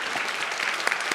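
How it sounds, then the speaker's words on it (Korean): A church congregation at a Sunday university worship service applauds the subtitle team, with brief, dense, even clapping throughout. "항상 수고하는 자막팀 위해서 격려와 사랑의 박수를"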